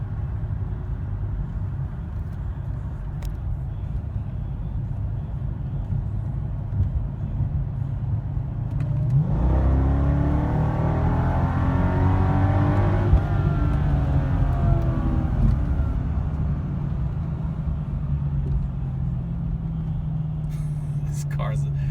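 A supercharged Mercedes E55 AMG sedan accelerates from inside the cabin, engine note climbing in a broad sweep midway before easing back into a steady cruising drone; a voice talks over parts of it.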